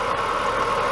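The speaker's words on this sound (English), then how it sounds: "you start the engine and leave it running at operating temperature for about 5 minutes" A BMW car engine runs steadily at operating temperature, a continuous even hum with a faint mechanical knock, close and unbroken with no talk.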